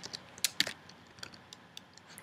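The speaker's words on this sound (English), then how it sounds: "so I can start typing" Quiet typing on a computer keyboard, a few irregular close key taps and clicks over about two seconds, with no voices.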